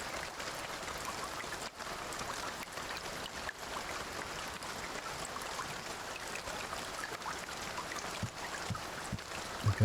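Steady broadband rain pours down without a break, a dense even hiss with scattered louder drops and a few low knocks near the end, with no voices.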